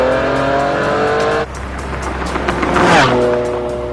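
A Ferrari Enzo at high speed on a closed-off interstate, its V12-style engine wailing loudly with steady high-pitched tones, dropping sharply mid-way and then rising again with a rushing pass.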